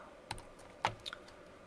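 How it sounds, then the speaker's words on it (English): Typing on a computer keyboard: a few sparse, quiet clicks and taps with pauses between them, close by in an otherwise quiet room. "I wish I could see what I was typing."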